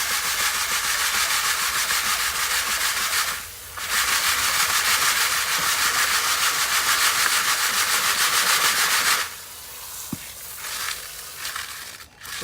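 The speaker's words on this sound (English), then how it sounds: "we'll take the nozzle and we're going to keep washing the 1/4 inch down" A water nozzle sprays steadily over quarter-inch gravel in a classifier, washing out the fines. The strong hiss runs continuously, breaks off briefly, then resumes before stopping near the end, followed by a few faint clunks.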